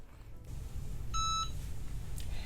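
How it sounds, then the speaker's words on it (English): A heat press timer gives a single short electronic beep, clear and fairly close, over a low room hum while a coaster is made with Cricut Infusible Ink. "once the timer has gone off, you want to pull the heat press straight up"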